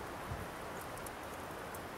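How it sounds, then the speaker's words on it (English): Steady rain pours through the woods as a dense, even hiss, close and continuous with no voices over it. "Out here in the woods, protected by the rain."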